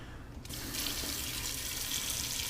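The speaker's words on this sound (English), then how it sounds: "Let's just run water in that and then I'll rinse it out." Water runs from a tap into a sink in a home kitchen, starting abruptly and settling into a steady, close splashing hiss that continues alone.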